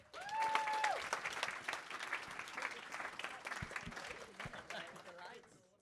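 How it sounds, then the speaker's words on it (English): Applause from an audience at a neighbourhood coworking event, loud at first and then thinning to scattered claps, with a voice and some chatter mixed in. "I want a big enthusiastic clap"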